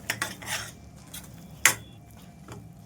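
Masala paste for dhaba-style garlic fenugreek curry is stirred in a cooking pot over low to medium heat, heard as a few short metal scrapes and clinks of a spoon against the pot with quiet gaps between them.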